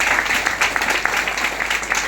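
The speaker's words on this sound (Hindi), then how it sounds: "एक जोरदार तालियां" A large crowd claps loudly and continuously at a business gathering in Bihar, a dense unbroken burst of applause lasting about two seconds.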